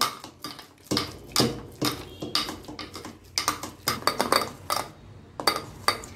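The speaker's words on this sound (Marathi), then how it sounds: "आता आपण रई किंवा जे मॅशर असते त्यांनी छान असं हे पूर्ण बारीक करून घ्यायचं आहे" Ripe banana being mashed with a masher in a bowl: repeated sharp clinks and soft squishing knocks against the dish, close and irregularly paced, with no talking.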